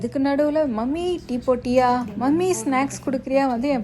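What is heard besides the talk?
No everyday noise stands out behind the speech.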